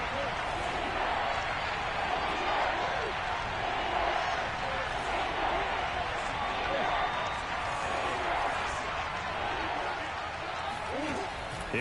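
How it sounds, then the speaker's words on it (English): Dense stadium crowd roar in an American football video game, rising as a big third down approaches, a continuous loud wash of cheering with occasional thuds. "the crowd getting into it as we come up on a big 3rd down"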